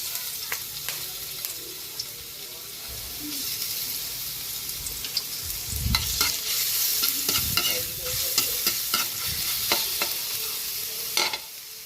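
Garlic sizzles in cooking oil in a pan while being stirred, with a steady frying hiss and scraping, clattering utensil strokes, close and fairly loud with no talk.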